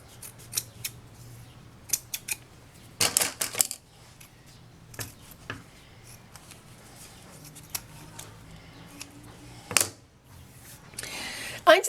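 Scissors trim excess zipper tape from a rounded fabric coin purse, a scattered run of sharp, close snips and clicks with a few rustling handling bursts between cuts, no speech.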